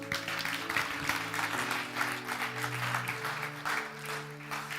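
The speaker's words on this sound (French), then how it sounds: "Donc, vous allez vraiment applaudir ça." A youth church gathering applauds in a steady, dense wash of clapping, with sustained musical tones playing underneath.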